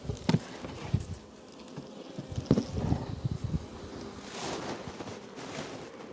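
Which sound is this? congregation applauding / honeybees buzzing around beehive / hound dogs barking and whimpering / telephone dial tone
honeybees buzzing around beehive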